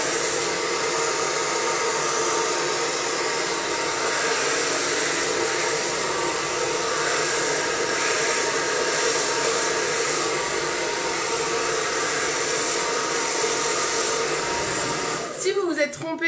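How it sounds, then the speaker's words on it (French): A hair dryer blows continuously and loudly while hair is blow-dried straight with a brush, a steady close whooshing roar that cuts off near the end with a brief rustle. "Vous allez passer votre sèche-cheveux comme ça en biais et vous laissez comme ça"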